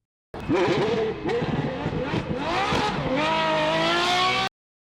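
An Apollo Intensa Emotion hypercar with a Ferrari-derived V12 engine roars close by, its engine note climbing and falling through hard revs. A steady rising howl follows as it accelerates, heard alone for about four seconds.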